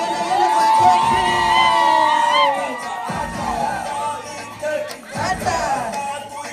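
High, wavering ululation from women during the cake cutting at a thanksgiving Mass, loud and close, mixed with crowd cheering and shouting, with a couple of sharp dips as the trilling breaks and restarts.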